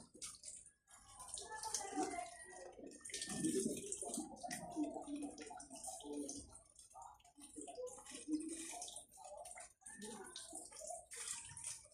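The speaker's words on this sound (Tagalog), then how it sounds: "Medyo mahina yung tubig mga kaguro ngayon" Weak running water from a household tap splashes unevenly into a basin or container close by, with soft clinks and handling noises mixed in.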